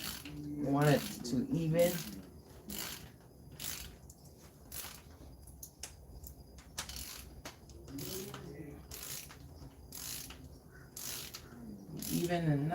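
A torque wrench ratchets in rapid clicking bursts while tightening, close and crisp, with brief pauses between pulls and a person speaking quietly at times.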